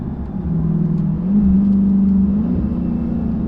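Dodge Charger Daytona 392 in sport mode pulling hard under acceleration, a steady close engine drone with a low rumble that swells slightly midway and holds throughout, no talk.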